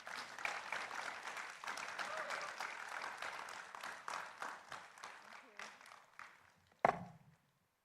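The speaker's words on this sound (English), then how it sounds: "A round of applause, everyone." A crowd applauds steadily for several seconds, the clapping gradually thinning out before a final sharp thump and quiet.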